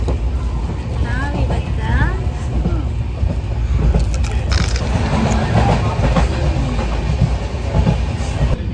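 Steady rumble and rattle of a moving train near Bagalkot, India, heard from inside a carriage, with clacking wheels and occasional squeals, while people talk over it.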